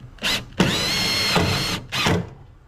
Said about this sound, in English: Put a couple self-tappers in this brace here.